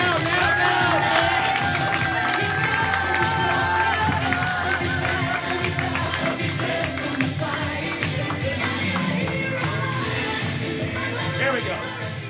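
A live audience at a stage show claps and cheers loudly and steadily, a dense wash of applause and shouts sustained throughout with no letup.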